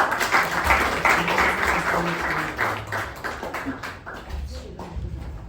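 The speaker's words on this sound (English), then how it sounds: "let's welcome the drumsticking of our club, Toastmaster Sushruth, with a thunderous round of applause" Audience applause at a Toastmasters club meeting, a steady burst of many hands clapping close by for several seconds, with some voices and cheers mixed in before it thins out toward the end.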